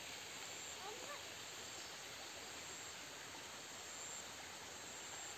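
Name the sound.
waterfall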